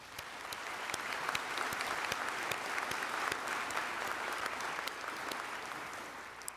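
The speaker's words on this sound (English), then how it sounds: "Let's give them all a round of applause." Commencement ceremony audience breaking into sustained applause, a dense, even roar of many hands clapping with sharp individual claps popping out near the microphone.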